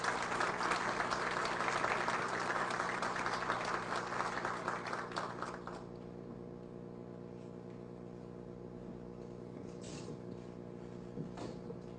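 An audience claps to welcome the ambassador at an Iran–Slovakia business event. The dense applause lasts about six seconds, then quickly dies away into a quiet room hum.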